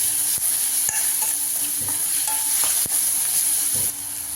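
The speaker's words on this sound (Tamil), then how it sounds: "இதில் வந்து பச்சை மிளகாய் போட்டுக்கலாம்." Green chillies frying in hot oil in a pan for potato bonda, a steady close sizzle with a few utensil scrapes and taps.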